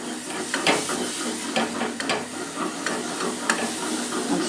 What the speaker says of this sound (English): I'm stirring all the time and you see the flour mixture, the roux, is absorbing that milk.